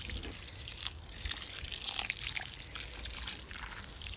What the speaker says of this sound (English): just going to give it a bit of a water